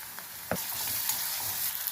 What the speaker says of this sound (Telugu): అల్లం వెల్లుల్లి పేస్ట్ వేస్తున్నాను కొంచెం